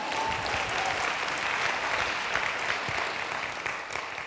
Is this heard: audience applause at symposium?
yes